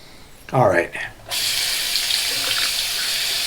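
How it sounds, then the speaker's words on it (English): Cold water running from a bathroom tap for face washing after a shave, a steady loud gushing that starts abruptly and continues, preceded by a brief voice. "Just wash my face down with some cold water."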